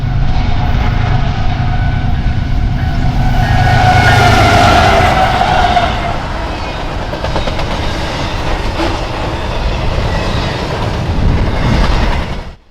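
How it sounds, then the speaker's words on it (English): A westbound CSX intermodal freight train rolls past at Berea, loud and close, with a continuous roar of wheels and rhythmic clickety-clack over the rails that swells and then holds steady before cutting off abruptly. "our last train of the day at Berea would be a westbound CSX intermodal."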